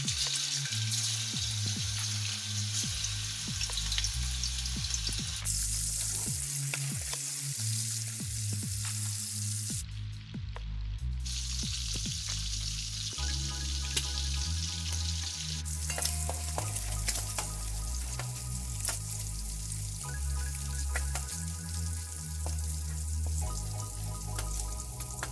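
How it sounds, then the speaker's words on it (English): Pieces of beef bacon fry in hot oil in a pan, sending out a continuous close crackling sizzle with occasional stirring scrapes and clinks throughout; no one speaks. "Let it fry a little bit before you add your onions."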